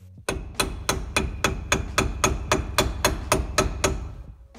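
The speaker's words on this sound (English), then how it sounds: "I'm using a rubber mallet, not a hammer." Rubber mallet tapping a socket to seat a Toyota rear differential pinion oil seal, about fifteen evenly spaced, sharp, close blows in a steady rhythm, with no talking.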